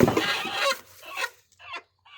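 Native chickens cluck loudly and close by while eggs are collected, a few burst-like calls separated by short pauses.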